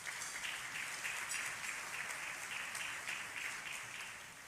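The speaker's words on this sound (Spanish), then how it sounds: "para quienes pido un fuerte aplauso" An audience claps steadily at a business chamber event featuring a presidential candidate, a sustained, even wash of applause heard from a distance that fades slightly at the end.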